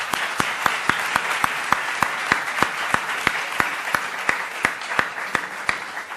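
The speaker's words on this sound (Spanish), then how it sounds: "Pues le damos un aplauso y gracias." An audience bursts into steady, dense applause after a talk, sharp claps ringing out evenly and continuously from start to finish with no pause.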